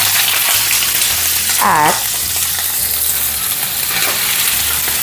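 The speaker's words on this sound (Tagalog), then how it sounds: "magigisa tayo ng ating pusit" Squid sautéing in a pan as palabok topping, a loud continuous close sizzle with a brief stirring scrape partway through, under a few faint spoken words.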